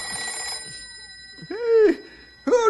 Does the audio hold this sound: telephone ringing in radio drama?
yes